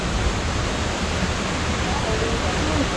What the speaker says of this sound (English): Now we're coming into the waterfall area with some good picture taking back here.